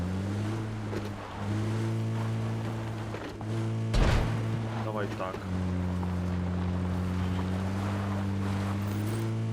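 A cruiser boat drones steadily through water in a shooter video game, a low engine hum with wind and wave wash, a sharp impact near the middle, while players talk over it.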